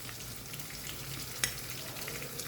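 Prawns fry in a pan with a steady, close sizzle and crackle, broken once by a brief sharp tap midway. No one talks.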